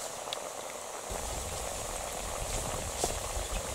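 Wheat-flour biscuits frying in medium-hot oil over a low flame: a soft, continuous bubbling crackle that thickens after the first second and carries on with scattered faint pops, quiet and close, with no one speaking.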